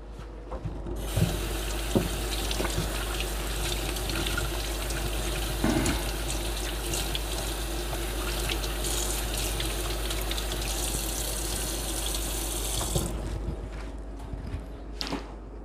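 Tap water runs steadily into a sink as carrots are rinsed beneath it, a continuous close splashing stream that starts and stops abruptly, with no talking.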